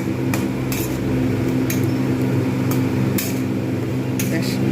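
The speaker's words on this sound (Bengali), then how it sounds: "একটু মশলাগুলো সবজির সঙ্গে কষিয়ে নেব ভালোভাবে।" Spices and vegetables stirred and sautéed together in a pan for a Bengali spinach and radish greens dish, with repeated light clinks of a utensil against the pan over a steady background hum.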